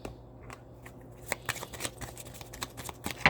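Tarot cards shuffle close by in a quick run of soft flicks and riffles, light and irregular, with no voices over them.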